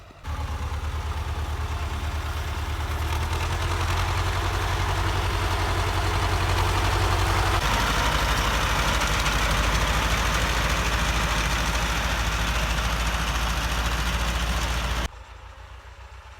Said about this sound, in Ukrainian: за мною і спиною їде тракторець